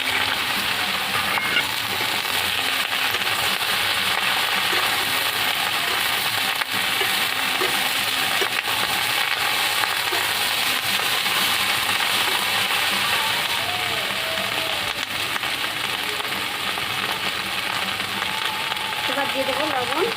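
Eggplant and onion fry in a pan with a dense, continuous hiss and crackle that stays loud and even throughout, with occasional faint stirring and a possible voice in the background.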